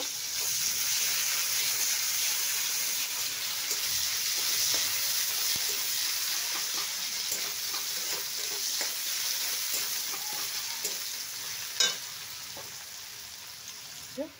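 Sliced onions sizzle in hot oil alongside pieces of fried shol (snakehead) fish, a steady close frying hiss throughout with faint stirring clinks and one sharp knock near the end, no voices.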